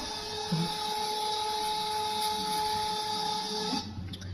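A receipt printer on a tablet-based retail POS setup prints a bill with a steady, continuous mechanical whine for several seconds, then stops abruptly.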